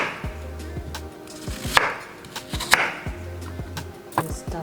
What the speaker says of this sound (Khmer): យើងហាន់ប៉ោមវាត្រឹមទៅ